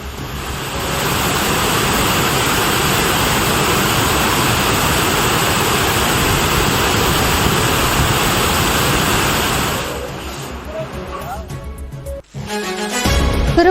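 Panchalinga waterfall, swollen with increased flow after heavy rain, gives a loud, steady rushing roar for about ten seconds before the sound drops away and other mixed noises follow.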